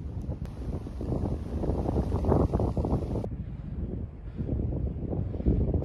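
Strong wind buffets the microphone in a steady low roar, with gusts rising and falling throughout, alone without voices, in the Fanal forest on Madeira.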